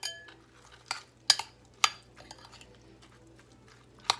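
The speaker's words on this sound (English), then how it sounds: "now let's stir this up" A utensil stirs shrimp salad in a bowl close-up, making a series of sharp clinks and scrapes against the bowl at an uneven rhythm, with quiet gaps between the strikes.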